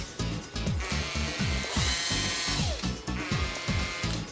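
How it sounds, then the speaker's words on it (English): A power drill bores a screw hole during 3D printer modifications on a Photon M3 Plus, with repeated short whirring bursts in a steady rhythm, close and clear with no talk. "We'll put it just slightly over the screw, then drill it."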